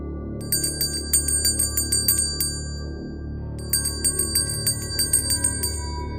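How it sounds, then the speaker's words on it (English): The light tinkling bells of a satay seller ring in a quick, uneven run, pause, then start again over a low steady rumble. The ringing is bright and fairly clear, with no voices. "leaving only the faint sound of tinkling bells in the distance"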